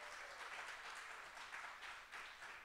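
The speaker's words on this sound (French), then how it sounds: "Je voudrais qu'on l'applaudisse." An audience in a gathering applauds a drummer, a quiet, distant wash of clapping that swells and dips slightly over a few seconds, with no voices.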